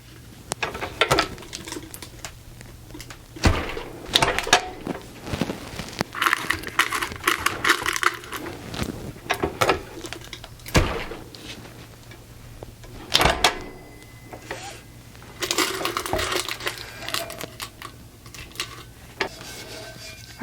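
A tumbler heat press is closed and worked around a tumbler, producing a string of close, loud clunks, metallic clicks and rattles, with a few bursts of mechanical rustle and a steady low hum underneath and no voices.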